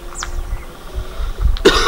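A man with a fever and cold gives a single sharp cough up close near the end of a short, otherwise quiet stretch.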